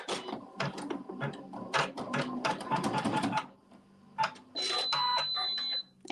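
A sewing machine stitches a tack down on a log cabin quilt block in close, rapid mechanical bursts, then pauses before a steadier run with a faint whine.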